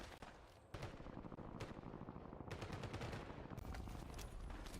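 Gunfire crackles in a Call of Duty Warzone match, with rapid, dense bursts of shots and heavier booms layered continuously, loud and sustained throughout with no talk.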